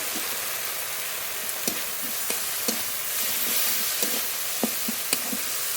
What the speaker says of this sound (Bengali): এবার একটু জল দিয়ে মশলা খুব ভালো করে কষিয়ে নেব